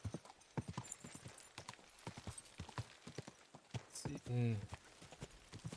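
A horse walks in Kingdom Come: Deliverance II with steady, crisp hoof clip-clops on a hard medieval road; someone says a brief word over the hoofbeats.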